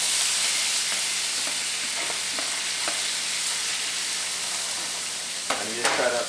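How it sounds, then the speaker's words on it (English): Steady, loud sizzling of vegetables frying in a hot pan, with a few soft scrapes of a plastic spatula stirring toward the end. "See it sizzling."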